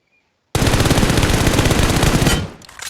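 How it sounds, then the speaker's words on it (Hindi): A weapon fired from a crouching stance in a shooter video game lets off one loud, continuous automatic burst of rapid gunshots lasting about two seconds after brief silence, then tails off into fainter echoes. "अब मैं इसी पे क्राउच करके उसे फायर देता हूँ।"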